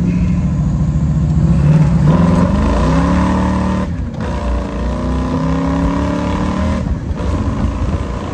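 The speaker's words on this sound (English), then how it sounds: "I have had worse days in my life than driving around paradise in a 57 Corvette" A 1957 Chevrolet Corvette cruises along with a steady, loud engine drone and wind rush, the motor note rising and falling through gear changes, with two brief dips where the throttle eases off.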